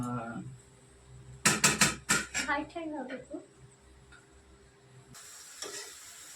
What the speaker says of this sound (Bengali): শাশুড়ি বউ মিলে রান্না বানাচ্ছে